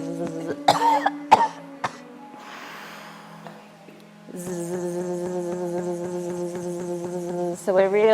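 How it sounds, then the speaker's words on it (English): During a qigong breathing exercise, a long hissing exhalation is followed by a couple of sharp coughs and throat clearing, then a steady droning tone runs underneath; close and fairly loud. "coughing at the end to strengthen and tonify the lungs"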